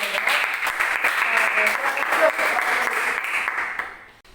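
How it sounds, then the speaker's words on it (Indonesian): Sustained applause from a class group, steady clapping throughout that tapers off near the end. "tepuk tangan untuk saudara kami"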